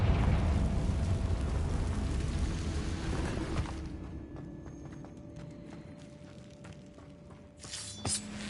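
An explosion from a Confringo blasting spell in the Hogwarts Legacy video game, set in a disused mine. A loud, dense rumbling roar fills the first few seconds, then gives way to a quieter, sparser tail with small pops and crackles.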